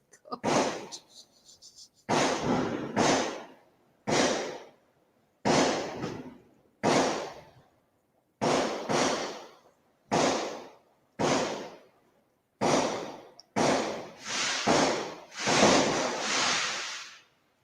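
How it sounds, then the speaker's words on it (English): Town hall fireworks display on New Year in a small village, a series of sharp bursts and crackling blasts coming in regular bursts about every second, loud and fairly close, with a crowd murmuring underneath. "So this is the firework display from the town hall."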